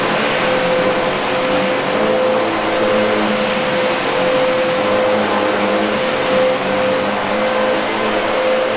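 A Milwaukee vacuum cleaner runs steadily on carpet with its brushes spinning, a loud continuous whine with a constant high tone that holds at an even level throughout, with no talking.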